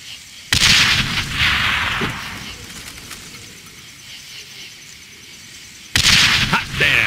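Two loud, sharp stick-grenade blasts from the video game Darkest of Days, set at the Battle of Little Bighorn, go off several seconds apart, with a lower rumble of battle noise lingering between them.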